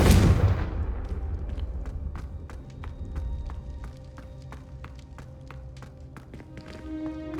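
A Confringo fire spell in Hogwarts Legacy bursts with a loud booming blast that decays into a rumbling tail, followed by a string of sharp clicking taps and a ringing tone near the end.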